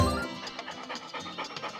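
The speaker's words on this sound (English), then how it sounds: "That is a dog." A dog in a video game pants in quick, rhythmic breaths, close and fairly loud, with a brief low thump at the start.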